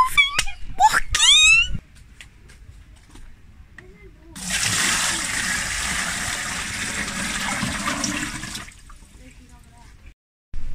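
A washing machine filling with water, a steady rushing gush that starts partway through, runs for about four seconds and then cuts off, after brief chirpy voice sounds at the start.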